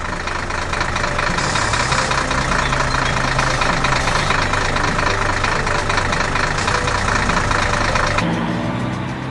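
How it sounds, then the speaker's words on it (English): A green farm tractor engine runs steadily while planting seeds, a loud continuous mid-pitched engine drone with no talk. "here comes the green tractor again, carefully planting seeds for the next big harvest"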